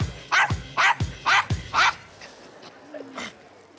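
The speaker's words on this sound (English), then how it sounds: "It's a Yorkshire Terrier." Yorkshire Terrier barking, four sharp close yaps in a steady rhythm, followed by a softer whimpering whine as the barking stops.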